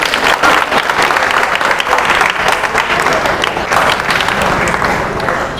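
Loud, dense applause from an audience at a quiz show event fills the space steadily and evenly from start to finish.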